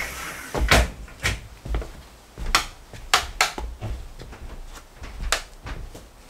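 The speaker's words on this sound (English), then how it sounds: "Little bit of creaks over there." Creaking and knocking from a mortar base under a shower floor in a mobile home, a series of sharp irregular thumps and creaks, close and fairly loud, with no talk.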